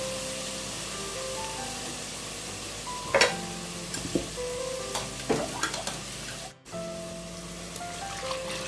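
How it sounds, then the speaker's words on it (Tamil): A white onion gravy mixture pours into a hot pan and sizzles steadily, with brief louder bursts of frying and stirring, close and alone with no talk. "இப்போ நம்ம இந்த கரைசலை ஊற்ற போகிறோம்."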